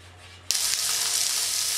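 Olive oil meets a hot griddle with a sudden bright hiss that cuts in after a quiet start, then holds as a steady close sizzle with no talk.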